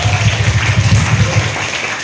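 Students at a high school event clap together in a steady, lively patter that fills the short moment with no voices over it.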